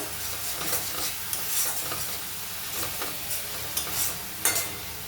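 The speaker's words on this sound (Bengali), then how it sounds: "সামান্য লবণ দিলাম। ভালো করে নাড়িয়ে নেব।" Snail curry being stirred in a pan after a pinch of salt goes in: a steady sizzle of frying runs throughout, with repeated scraping strokes of a spoon against the pan, close and moderately loud, no talking.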